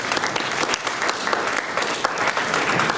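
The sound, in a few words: audience applause for a special envoy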